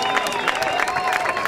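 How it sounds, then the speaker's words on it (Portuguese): A crowd applauds and cheers a skater at the Ceará World Cup 2011 skateboarding final in Fortaleza, with dense, steady clapping that is loud and continuous throughout, mixed with crowd noise and an announcer's voice. "Vamos aplaudir, galera!"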